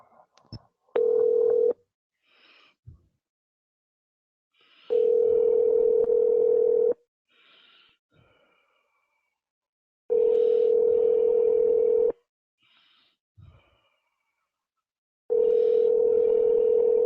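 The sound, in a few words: telephone call being placed, dial tone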